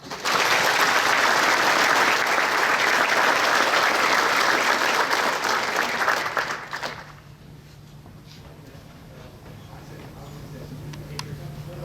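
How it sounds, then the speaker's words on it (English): Audience applause at a military Basic Leader Course graduation ceremony, loud sustained clapping from a large crowd for about six seconds that fades away, leaving quiet room tone with faint stray claps. "Round of applause."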